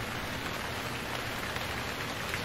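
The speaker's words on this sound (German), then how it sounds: "schon regnet es wieder" Steady rain falls in the survival video game Stranded Deep, a constant, even hiss of drops spread across the whole clip with no rise or pause and no voices.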